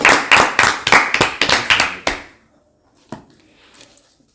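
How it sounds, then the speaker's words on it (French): A small congregation claps for the pastor in a series of distinct, rhythmic hand claps, close and loud for about two seconds, followed by quiet with a stray clap and faint sounds. "Applaudissons pour le pasteur."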